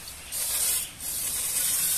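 Brake cleaner sprays onto the brake parts of a Suzuki Ertiga, two close, loud hissing bursts separated by a brief dip, with no talk.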